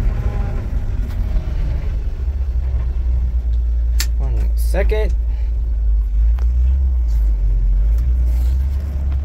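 A 1969 Chevy C50 fire truck engine drones with a deep, steady low rumble while driving, continuous and loud throughout; someone talks briefly over it midway.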